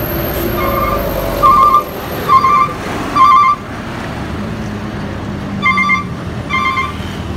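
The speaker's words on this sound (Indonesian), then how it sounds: "Masuk satu unit lagi bus MPM Sultan Kelas dari Rantau, MP 73 tujuan Pariaman." An MPM Sultan Class bus from Rantau, number MP 73 bound for Pariaman, pulls in at a busy bus stop. Repeated loud electronic beeping tones in short bursts sound over a steady engine and traffic rumble.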